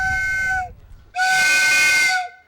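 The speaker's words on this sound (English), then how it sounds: "Time to blow the whistle." Two loud blasts of a steam train whistle, a shorter one followed by a longer one, shrill and breathy with a hissing edge.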